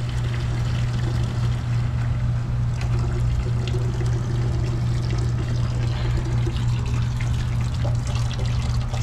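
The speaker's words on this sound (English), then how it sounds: "that's a constant flow of water right now" Water rushes in a constant, steady flow through a water-source heat pump system, with a low mechanical hum underneath; loud, close and unbroken throughout.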